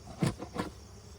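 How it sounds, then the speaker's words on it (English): Honey bees crowd a Layens hive box during an inspection. Two short, close buzzes pass in quick succession, then fade to quiet. "I got a bunch of bees all over in the box."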